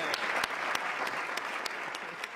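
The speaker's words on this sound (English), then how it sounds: "Let's have a big round of applause for everybody." A studio audience breaks into continuous, dense applause with sharp individual claps throughout, loud and close, with no talking over it.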